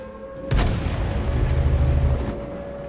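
A tank cannon fires in World of Tanks as one sharp, loud boom, followed by a long rolling low rumble that lasts about two seconds before cutting off.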